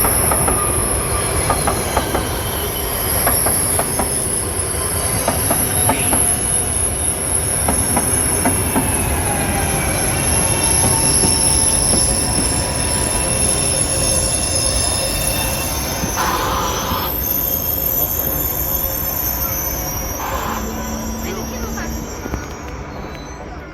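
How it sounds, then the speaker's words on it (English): A train pulls into a station in Gallarate, Italy, its wheels squealing loudly and continuously over rumbling carriages and steady rail noise, with talk audible in the background. "And here's my train back to Milan."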